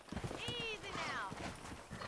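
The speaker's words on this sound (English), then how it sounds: "there's a pack of wild horses nearby" A horse whinnies in a rising-then-falling cry over a steady background of hoofbeat-like clatter, with a voice speaking underneath, in the video game Red Dead Redemption.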